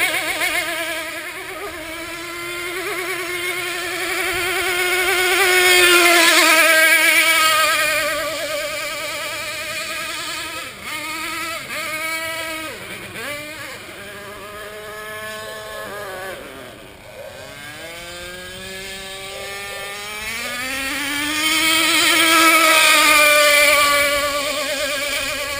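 A motorboat engine runs on open water with a loud, close, buzzing whine that rises and falls in pitch as the throttle shifts, heard alone for the whole stretch.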